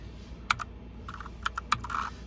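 Typing on a computer keyboard, entering a short crypto ticker symbol: a few quick separated clicking keystrokes in two small bursts, close and fairly clear over a quiet room hum, with no talking.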